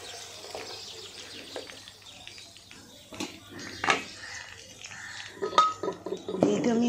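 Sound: whole spices added to hot oil in a pan

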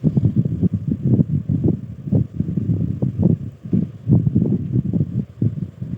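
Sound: sewing machine stitching a blouse sleeve

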